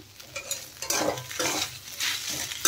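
Fried peanuts stirred into spices in a pan for a samosa filling, a series of close scraping and rustling stirs in uneven bursts with a light sizzle beneath and a sharp utensil knock at the very end.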